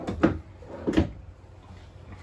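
A drawer in a Cruiser 327BHS camper slides and knocks twice, giving two short, dull thumps close by in a quiet room.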